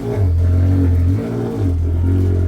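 A Ferrari engine revs hard as the car swings into a sharp right turn, a loud, close, steady roar that swells, dips briefly twice and climbs again.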